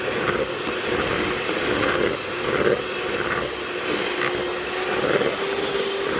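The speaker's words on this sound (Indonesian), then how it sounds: "Kita mixer terus. Satu telur ini sekitar 1 menit." Electric hand mixer whirring steadily as it beats eggs into choux pastry dough, a continuous close motor drone with slight pulses as the beaters work, no talking.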